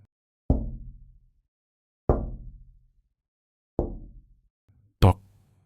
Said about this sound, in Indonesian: Tok, tok, tok. 3 ketukan.